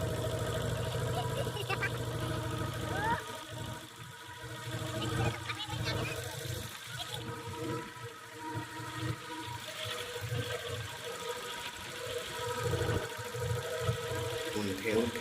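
A boat engine drones steadily on rough sea off Mousuni Island, a low continuous rumble mixed with splashing water, with faint voices in the background.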